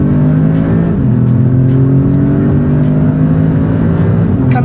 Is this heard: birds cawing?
no